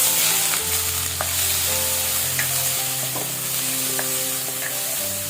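Finely chopped onions go into hot oil with cinnamon, clove and cardamom for a prawn coconut milk curry, giving a steady, close sizzle with occasional stirring scrapes and no talk.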